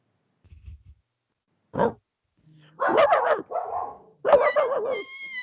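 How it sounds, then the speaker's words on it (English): A dog barks in a home during an online conversation, a few sharp close barks and yips separated by pauses, ending with a longer whining run, loud and alone without talk. "That's my dog here."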